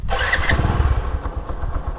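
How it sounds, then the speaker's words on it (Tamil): A geared motorcycle fires up on its electric self-start button, close by: a short starter whir catches into a steady, throbbing idle that runs to the end with no talk. "இப்போ வந்து பார்த்தீங்கன்னா பைக் ஸ்டார்ட் ஆயிடுச்சு."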